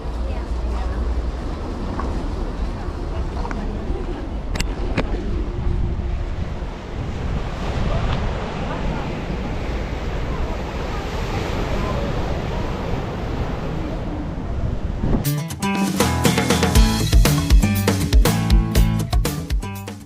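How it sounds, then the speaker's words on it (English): Heavy ocean surf at Curaçao roars continuously with wind buffeting the microphone, rough waves crashing loud and close throughout. "Those are rough waves."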